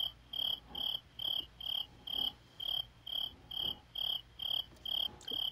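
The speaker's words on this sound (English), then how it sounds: "That's loud crickets." Crickets chirp loudly and close by, a regular pulsing trill repeating about every half second, alone over quiet night background.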